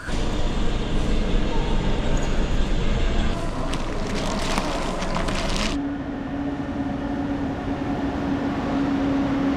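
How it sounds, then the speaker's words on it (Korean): Loud continuous rumble of a first-class train bound for Laos rolling on rails, with a burst of rattling clatter midway before settling into a steadier drone with a faint whine. "평생 처음 타보네요, 1등석 기차는"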